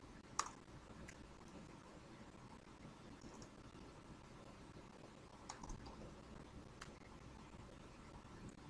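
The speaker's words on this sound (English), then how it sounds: "I'm typing on all caps." Sparse, light clicks and taps scattered over a quiet background, like keys being pressed slowly and irregularly on a keyboard.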